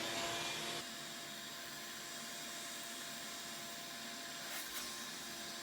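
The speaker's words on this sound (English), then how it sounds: "I'm gonna vacuum inside of here before I actually clean inside of" Vacuum cleaner running steadily while cleaning out the inside of a wood stove before creosote scraping, a continuous close whooshing roar with a brief louder surge near the end, no talking.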